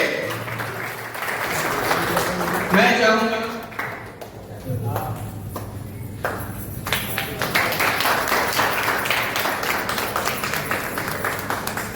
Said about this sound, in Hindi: जोरदार तालियां दादाजी के लिए।